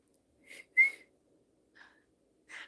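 A person whistles a catcall imitation in several short bursts: a brief trill, a louder rising-falling sweep, then two fainter whistles after a pause. Nearby and clear with no talking.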